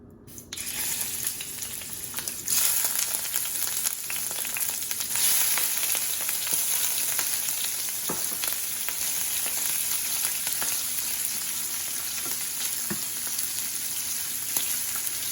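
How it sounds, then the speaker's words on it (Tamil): Shrimp fry in hot oil for deviled shrimp, a steady, close crackling sizzle with scattered pops. It begins abruptly and holds at an even level throughout, with no talk. "ஆயில் ஆட் பண்ணிட்டு அதுக்குள்ள கொஞ்சம் ஷ்ரிம்மை போட போகிறேன்."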